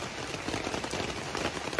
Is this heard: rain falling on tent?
yes